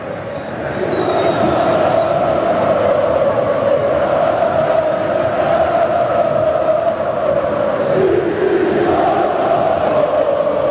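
Flamengo supporters sing continuously in a stadium during the 2006 Copa do Brasil final against Vasco, a huge sustained crowd chant with a droning melodic line that swells after a brief quieter start and holds loud throughout.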